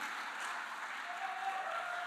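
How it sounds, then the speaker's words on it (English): Steady, dense audience applause at a PNM public meeting in Trinidad and Tobago, a continuous even wash of clapping at moderate loudness with no speech over it. "can I get another round of applause for this powerful young lady?"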